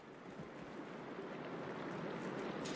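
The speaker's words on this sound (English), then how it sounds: "I can hear water in the room again." Steady running water fills a room in the video game Horizon Forbidden West, a continuous soft rushing wash at even loudness with no voices over it.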